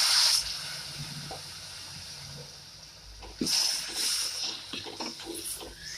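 A loud hiss as water hits a hot pan of fried spices for lentil dumpling curry, fading down and then flaring up again with bubbling and spattering.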